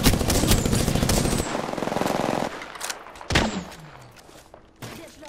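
Gunfire in the Apex Legends video game: a rapid, loud automatic burst, then scattered single shots and thuds trailing off.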